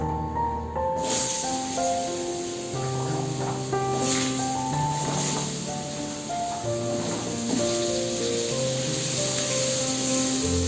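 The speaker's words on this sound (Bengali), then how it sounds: "মিনিট 3-4 সময় নিয়ে একটু ভেজে নেবো আলুগুলোর সঙ্গে মশলাটা" Potatoes frying in hot oil with dried red chilli and asafoetida for a white potato curry, a steady broadband hiss and sizzle running continuously under soft background music, with no talking.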